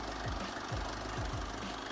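A 1996 Isuzu Panther Grand Deluxe engine idles with a steady low rumble and a regular knocking pulse about twice a second, close and continuous.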